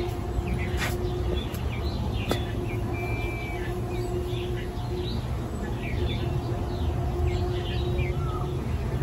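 Small birds chirp at Tucson's Reid Park Zoo, a scatter of quick tweets and short calls over a constant background hum of outdoor noise, moderately close.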